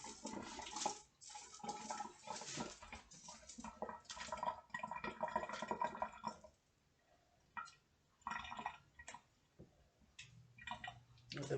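Harvested wild grapes are washed in water, with splashing and running water in bursts close by, broken by short pauses and a quieter stretch near the middle.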